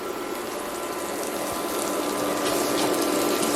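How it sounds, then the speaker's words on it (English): Water pours from a kitchen tap in a steady, loud, unbroken rush while hands are washed beneath it, with no talking. "Wash my hands."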